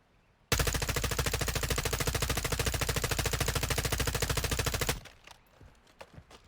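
An M4 rifle with a 60-round magazine in Warzone 2 fires at a wall target in one loud, unbroken automatic burst of about four and a half seconds, a rapid even rattle that cuts off abruptly into quiet.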